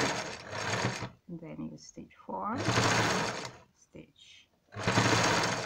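A sewing machine stitching pleats on a ruffled pillow sham runs in three loud whirring bursts, with pauses between them where someone speaks briefly.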